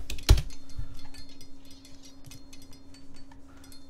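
Keys clatter on a computer keyboard in quick, irregular taps, close and fairly crisp, with a sharp knock near the start and a faint steady hum underneath.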